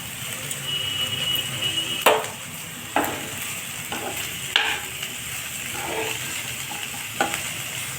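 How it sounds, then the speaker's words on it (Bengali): Winter vegetables for veg rolls sizzle steadily in a hot pan while a spatula stirs them, with several sharp scrapes and clinks against the pan. "প্রত্যেকটি জিনিস দেওয়ার পর একটু করে নেড়ে ভেজে ভেজে নিতে হবে"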